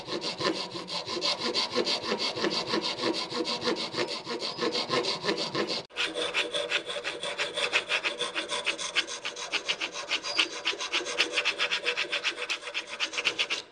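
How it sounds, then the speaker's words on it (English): Rasping file worked back and forth across timber clamped low in a vise, a continuous rhythmic scraping of rapid close strokes with one brief break near the middle. "show I'm doing a bit of filing"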